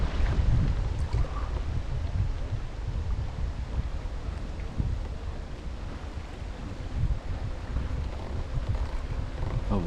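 A motorboat on East Fork Lake drones with a low, steady rumble as it motors away, largely buried under heavy, continuous wind buffeting on the microphone.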